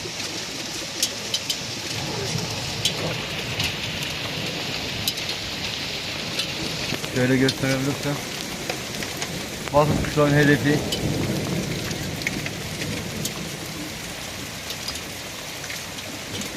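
Hail falls hard on an open highland pasture during a bird-watching outing, a dense rattling patter with scattered sharp ticks, while someone talks over it and a couple of louder bursts rise midway.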